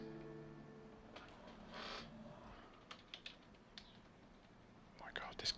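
Faint computer keyboard keys click in a few scattered bursts, the key taps sparse and soft over a quiet, hissy room background while Gran Turismo 7 is being played on a computer.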